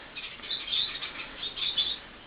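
A show bird chirps while being handled, a few quick high tweets close by against a steady hiss, with no talking.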